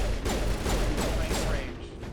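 Several explosions go off in quick succession in a sci-fi shooter video game after a pistol shot, each a loud burst in a rapid rhythm before a quieter tail.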